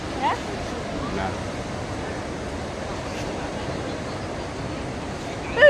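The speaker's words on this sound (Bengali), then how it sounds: "ঢেউগুলো কোত্থেকে সৃষ্টি?" Sea waves at Tenneti Park, a seaside park in Visakhapatnam, make a constant roar of surf mixed with wind rumble, with a brief faint voice near the end.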